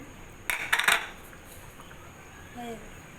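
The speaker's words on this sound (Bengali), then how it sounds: "নাড়াচাড়া করতে হবে" A spoon briefly clinks and scrapes against the metal pot while desi chicken curry with yogurt is stirred, a quick cluster of faint metallic taps followed by quiet kitchen background.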